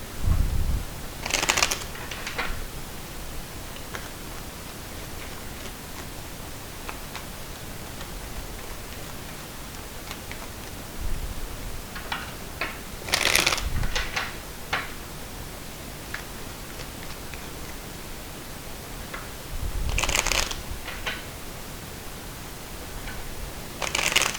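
Cards are shuffled in three quick riffling bursts, spaced apart, with quiet background hiss and faint handling sounds in between.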